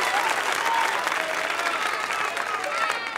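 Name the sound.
audience applause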